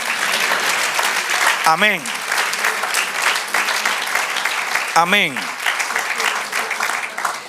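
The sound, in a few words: church congregation applauding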